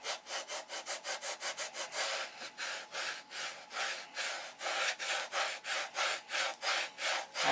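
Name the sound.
sanding wood tips of control line model plane stabilizer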